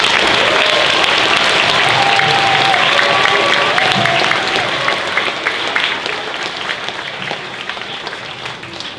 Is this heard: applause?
yes